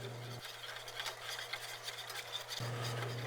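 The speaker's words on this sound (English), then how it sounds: "Just want to whisk it pretty good. Keep any lumps from happening." A whisk is worked through a thickening sauce for a French dip sandwich, giving a steady scraping, stirring rasp against the pan that runs throughout at close range and moderate level, with a low hum underneath.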